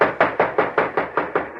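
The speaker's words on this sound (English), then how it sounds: "knock and yell for the guards to open the door to the mail car" Knocking on the door of a train mail car in a radio drama: eight evenly spaced, firm knocks in a steady rhythm, close and alone.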